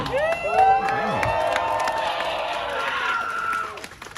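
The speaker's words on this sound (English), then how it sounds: "Well received by the crowd," Crowd at an anti-CCP, anti-lockdown protest for Shanghai cheering and whooping, with loud overlapping shouts and wavering yells that rise early, hold, then fade toward the end.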